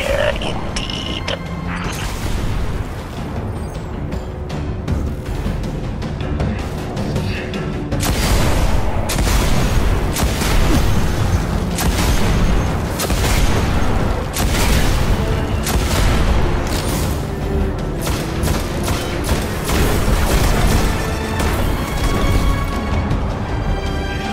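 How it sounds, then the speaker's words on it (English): Heavy scorch cannon fire in the video game Destiny: a dense run of loud booming blasts and crashing impacts repeating steadily over a constant roar of battle noise. "Scorch cannon. Powerful and very rare indeed."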